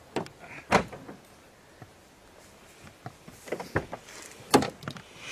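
A car door is worked open with a series of sharp clicks, clunks and latch thumps spread unevenly over several seconds, close by, with quiet gaps between.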